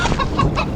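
Chicken clucking inside a horror video game, a short run of several clucks close and fairly loud over a busy game-sound background, with no talking.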